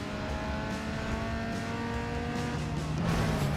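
A car engine revving hard near its limit in the street-racing game Need for Speed Underground 2, a steady high-pitched whine held for several seconds with faint tire noise beneath.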